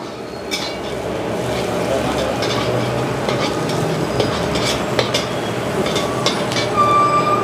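Egg fried rice is stir-frying in a pan at a Bangalore street stall, giving a continuous sizzle with repeated scraping and clanking of a spatula against the metal pan, fairly close and steady with light background bustle.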